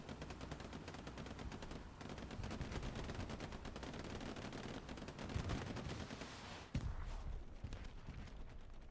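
Rapid gunfire in a Call of Duty style Warfare match, dense bursts of shots and impacts crackling continuously through the clip with a sharper bang near the end, no talk.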